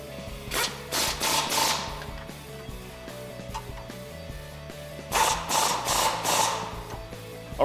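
A ratchet tightening the upper shock mount on a Jeep Wrangler JK fitted with Teraflex FOX 2.0 shocks, several bursts of rapid clicking with short pauses between them, close and fairly loud.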